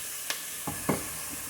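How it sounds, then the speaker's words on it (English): Squash drops into a hot oiled pan with three short sizzles, each sharp and close, the last one loudest and longest, then quiet hissing tails off. "We just drop our squash down in there."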